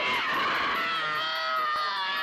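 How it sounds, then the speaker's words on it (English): An actress screams in genuine pain while being jerked by a rig during a scene from The Exorcist, a loud, sustained, wailing cry that tapers off. "These screams are authentic."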